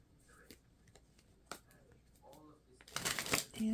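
Oracle cards shuffled by hand close up, in several soft riffling bursts that swell into a louder flurry near the end, with quiet talking in between.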